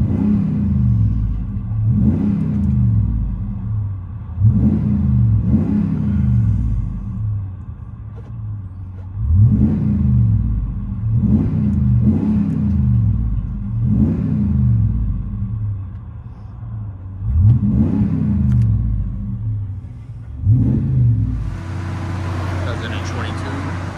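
A deep Ram 6.4L V8 truck engine with a Borla true dual X-pipe exhaust revs in repeated bursts, each throttle blip rising and falling over a steady rumbling idle, loud and nearby.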